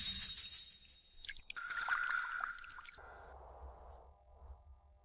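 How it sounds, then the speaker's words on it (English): Liquid nutrient solution poured out in a village greenhouse setting, a brief splashing, dripping pour that shifts into a softer, steadier trickle with no talking. "today we'll pour all these liquids into our village's greenhouses, and the rest into the well water"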